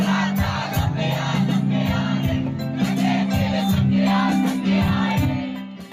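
A crowd packs around a singer on stage at an election rally in Khatima, making a steady loud crowd din with rhythmic thumps and shouts.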